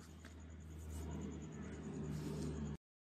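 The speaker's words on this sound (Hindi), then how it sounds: "इस गाड़ी स्टार्ट करती है यार" A supercar engine idles with a steady low rumble, close and fairly quiet, for a few seconds before cutting off abruptly.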